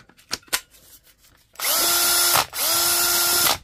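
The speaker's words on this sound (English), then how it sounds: "And we'll try it on a drill" A cordless drill powered by a repaired Milwaukee M18 battery whirs up loudly twice in quick succession, each run a steady high-pitched motor whine lasting about a second, preceded by a few light clicks.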